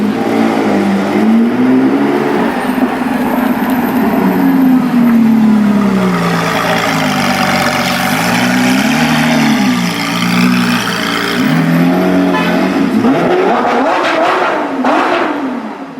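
A Lamborghini Sian Coupe in Need for Speed No Limits, its engine revving up and down through gear changes in a loud, continuous close-up drone with rising and falling pitch, no talking.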